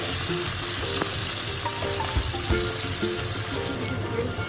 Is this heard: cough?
no